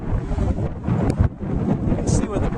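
Strong wind buffets the microphone on a blustery day in Dunbar, a loud, gusting roar with low rumbling surges that rise and fall throughout.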